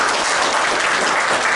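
A theater audience at a fan-convention sketch event at Proctors Theater in Schenectady, NY, fills the room with steady, dense applause that stays loud and even throughout.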